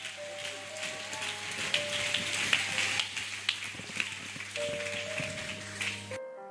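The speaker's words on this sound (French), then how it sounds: "Est-ce qu'on peut célébrer Jésus par nos acclamations?" A church congregation claps in a dense, rain-like patter over sustained keyboard chords. The applause swells and fades before cutting off abruptly.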